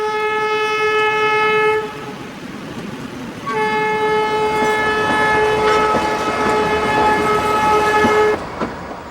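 Kalka–Shimla luxury train sounds a sustained multi-tone horn twice, the second blast long, over steady rolling rail rumble and clatter.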